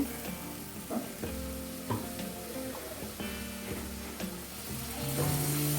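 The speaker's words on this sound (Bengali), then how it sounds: "একটু জল দিয়ে দিতে হবে ভালো করে কষানোর জন্য" Ground coriander, cumin and Kashmiri chilli powder sizzle with a splash of water in a pan for egg palak, a steady close frying hiss broken by a few scraping stirs of a spatula, with no talking.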